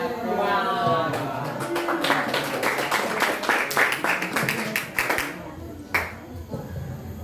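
A classroom group of teachers applauds group one, a burst of hand clapping that builds and then tapers into scattered claps, with a voice talking over the start.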